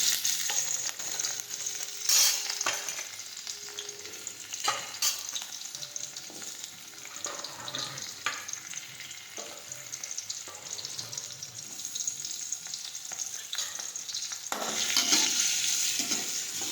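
Chilies, potatoes and tomatoes fry in a pan with mustard seeds and cumin while being stirred, a soft steady sizzle broken by occasional scraping clatters of the spoon against the pan, quiet and close with no talking.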